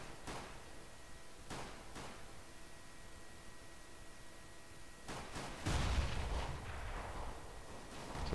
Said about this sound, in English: Some gunfire going on B.